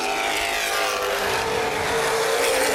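A dense, continuous roar of NAPA late model race cars running on the Baer Field Speedway oval, loud and sustained with blended engine drone and no breaks.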